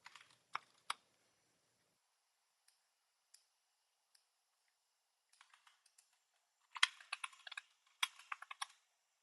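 Short bursts of typing on a computer keyboard with an unusual layout, a few scattered clicks early on, then two quick flurries of keystrokes near the end, close and fairly quiet with no talk.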